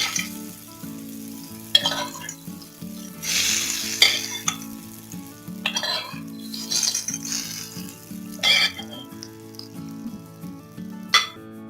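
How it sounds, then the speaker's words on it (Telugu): Tempering for a ripe red chilli and tomato pickle sizzles and crackles in hot oil, with sharp bursts and bright hissing swells as a spoon stirs and clinks against the pan, close and loud throughout. "పోపు వేసిన తాలింపు ఇందులో టమాటో పచ్చళ్ళు వేసుకోవాలి."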